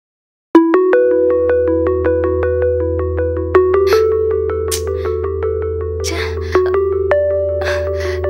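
A phone ringtone plays alone as an electronic melody of clean, steady tonal beeps over a low sustained hum, with a few short non-speech sounds faintly mixed in.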